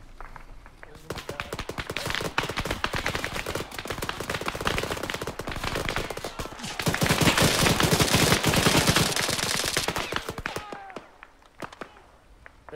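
Heavy gunfire from a high-caliber weapon in an Arma 3 battle near a field hospital, with dense rapid bursts that swell louder midway and then cut off, while players talk over it.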